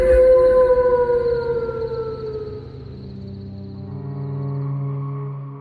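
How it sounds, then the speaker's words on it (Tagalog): A dog howls loudly, one long drawn-out wail that slowly falls in pitch and fades, followed by a lower, quieter sustained tone, heard alone without speech. "marinig ang malakas na alulong ng aso"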